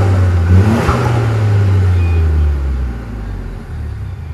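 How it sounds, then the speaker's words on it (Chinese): A white 2020 Ford Focus ST-Line Lommel 1.5 with a modified exhaust idles with a deep, loud rumble, briefly blipping near the start before settling into a steady low drone. "再来我们先听一下它的排气管，"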